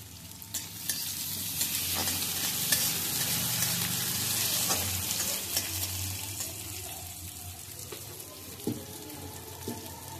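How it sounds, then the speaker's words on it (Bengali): Chopped onion with a pinch of salt fries in oil left over from frying fritters, a steady close sizzle with occasional scraping stirs and brief louder spatters, no voices. "এবার এই তেলেই আমি দিয়ে দিচ্ছি পেঁয়াজ কুচানো"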